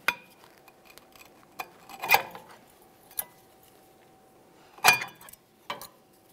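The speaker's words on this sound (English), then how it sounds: "Continue on to removing each of your two brake pads." Brake pads come out of the rear caliper bracket of a 2006-2012 Ford Fusion, giving a few sparse metallic clinks and taps, close and quiet, with gaps of near silence between them.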